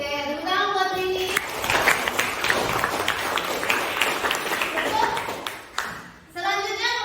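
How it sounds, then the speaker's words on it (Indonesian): A classroom breaks into applause for a student, a few seconds of dense, close clapping from many hands, with a teacher speaking just before and after. "Oke, tepuk tangan buat Rini."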